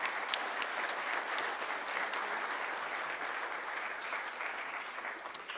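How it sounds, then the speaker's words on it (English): An audience at a high school winter jazz concert applauds the soloists with sustained, full clapping, fairly even in level throughout, with no talking over it. "So can I have one more round of applause for our soloists"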